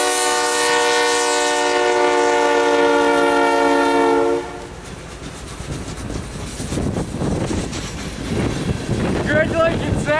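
A CN freight train with a KCS locomotive passes close by, its horn blaring a loud, sustained chord for about four seconds before giving way to rumbling, clattering wheels and wind noise.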